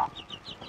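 A hen clucks inside a chicken coop, a short soft run of clucks up close with nobody speaking.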